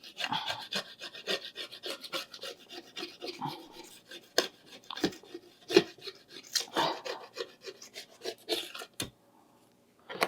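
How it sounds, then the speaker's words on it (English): A razor blade scrapes dried paint off a palette in short, uneven rasping strokes with brief pauses, close and fairly quiet, ending in near silence. "I just kind of use the razor blade to scrape off all that paint"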